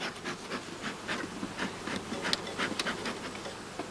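Honey bees buzzing densely inside a hive while being fed granulated blossom honey, a steady close drone with scattered sharper wingbeat flicks throughout.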